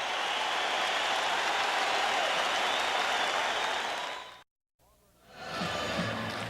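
Basketball arena crowd at the Palace of Auburn Hills during the 1989 NBA Finals Game 1, Pistons versus Lakers, a loud sustained roar and applause that cuts off abruptly, then a quieter crowd swells back in.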